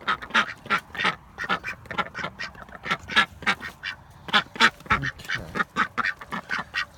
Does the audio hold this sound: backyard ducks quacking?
yes